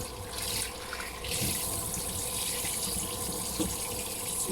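Handmade soap is rinsed under a running kitchen tap, giving a continuous close hiss of water splashing into a sink, steady and alone.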